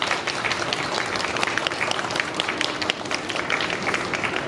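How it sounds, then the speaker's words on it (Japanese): Dense, sustained applause from an audience at a ceremony appointing a one-day police station chief, loud and even from start to finish with many overlapping claps. "大きな拍手お願いします"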